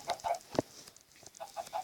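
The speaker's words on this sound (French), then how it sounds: "il y a plein de poulets" Minecraft chickens on an automatic chicken farm cluck in short repeated bursts, several close overlapping clucks in an irregular rhythm.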